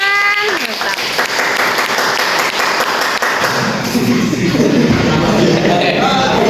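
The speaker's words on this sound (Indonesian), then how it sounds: "Tepuk tangan." A class claps after a history debate, a loud, sustained wash of many hands clapping together and holding steady throughout, with voices faintly mixed in beneath it.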